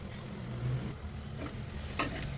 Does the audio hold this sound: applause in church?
no